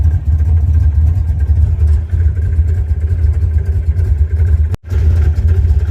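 A car fitted with a cheap aftermarket eBay muffler idles at about 800 RPM, heard from the driver's seat as a loud, steady low engine drone with a brief dropout near the end.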